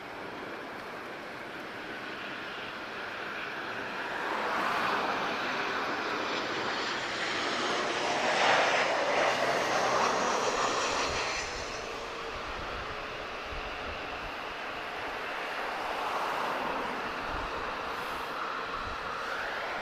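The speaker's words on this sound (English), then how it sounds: "Okay, here's Ryanair inbound." A Ryanair airliner inbound to Lisbon Airport gives a continuous jet roar that swells as it passes nearest around the middle and then eases off, heard from a distance without talking.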